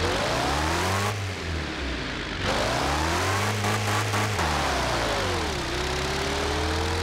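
An old open-wheel race car engine in Forza Motorsport 7 roars loudly, revving up and down through gear shifts with whining pitch sweeps, steady and close throughout.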